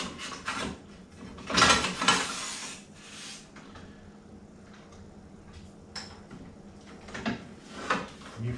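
Tall fence on a JET JWBS-14SFX bandsaw being loosened, slid over and dropped down, giving a few close metallic clunks and scraping knocks spread across otherwise quiet shop air.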